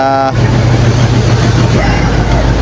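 A boat's inboard engine runs steadily and loud at close range, a continuous low droning hum without a break, on a vessel where two engines have faults.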